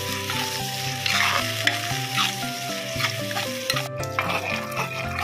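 Onions frying in a pan for fish curry give a steady, close sizzle with stirring scrapes throughout, while strong tonal music plays over the whole stretch.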